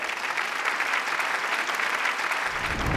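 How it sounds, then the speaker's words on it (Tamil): Audience applause for an award winner at a business awards ceremony fills the hall with steady, dense clapping from a large crowd throughout, with a low hum entering near the end. "ஒரு பெரிய கைத்தட்டல் கொடுக்கலாமே உங்களுக்கு."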